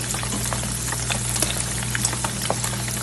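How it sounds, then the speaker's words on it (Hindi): Paneer fries in an open pan for a restaurant-style mattar paneer, a steady close sizzle with scattered pops and spits throughout, no voices. "जब आप पनीर को फ्राई करें तो आप कोशिश करें कि इसी तरह जो है पैन जो है हमेशा खुला लेना चाहिए"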